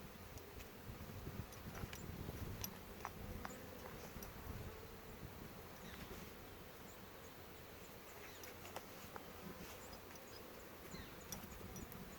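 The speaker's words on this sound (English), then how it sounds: "Fair amount of bees have come back. They're kind of all over." Steady, dense insect buzzing from many honeybees around a hive with a laying worker, fairly quiet and continuous, with faint rustling and occasional small clicks throughout.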